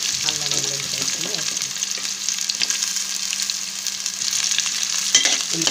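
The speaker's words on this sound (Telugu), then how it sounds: "ఉల్లిపాయలు ఫ్రై చేసుకుందాం." Chopped onions hit hot oil in a pan, giving a steady, close sizzle with a few stirring scrapes and a brief low voice at the start.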